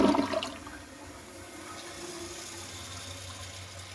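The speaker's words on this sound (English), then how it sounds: "let's just give her a flush. Now this is the push button flush, so I think this one is for half load" A push-button toilet flushed on half load opens with a loud rushing gush that fades within half a second into a quieter, steady refill trickle and hiss, heard close in a bathroom with no talk.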